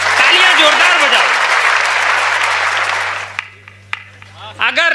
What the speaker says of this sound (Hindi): तालियां जोरदार बजाओ।